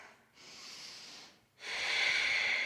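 Two long breaths during a yoga flow, a softer one followed by a louder, rushing breath, each airy and close with a short pause between, no talking.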